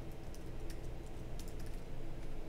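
Quiet, rapid typing on a computer keyboard, a run of soft clicking keystrokes with a few sharper taps, close and faint with no talking.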